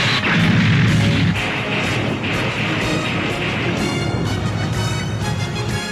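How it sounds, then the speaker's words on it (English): Depth charge explosions in an animated undersea series, a dense, loud rumbling barrage of booming blasts that rolls on continuously without pause and has no speech over it. "The depth charges have been launched!"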